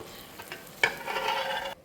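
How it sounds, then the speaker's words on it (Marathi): Masala sizzling and frying in hot oil, stirred with a sharp scrape midway and a continuous crackling hiss that cuts off abruptly near the end. "छान परतलाय मसाला"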